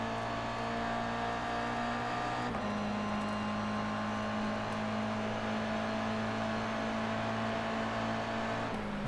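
Toyota GR86 race cars in the World GR86 Series at Sandown, running flat out down the start-finish straight in a slipstream, with loud, sustained engine drone that shifts pitch twice as gears change, close and steady throughout.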